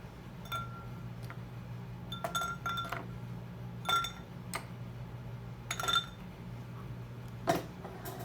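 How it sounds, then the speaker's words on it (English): Ice cubes are dropped into a glass for a Navy Strength Old Fashioned cocktail, making a scattered series of bright, close clinks and knocks over a low background hum, with no talking. "So now we have to load it up with ice."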